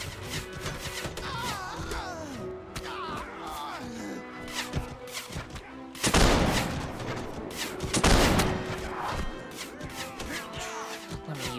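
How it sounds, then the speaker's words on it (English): Gunfire in the Warsword video game, dense overlapping shots and explosive bursts with two heavier volleys, loud and continuous over a busy game soundscape. "I'm getting shot by a lot of stuff."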